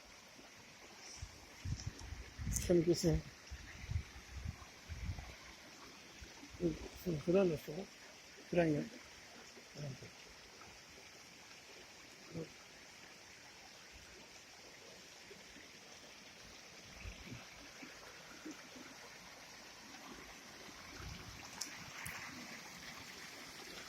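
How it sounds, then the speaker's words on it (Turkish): A small waterfall and stream in Kastamonu countryside keep up a steady, soft rush of flowing water throughout, with someone talking briefly over it near the start. "Su sesi duyuyorsunuz herhalde."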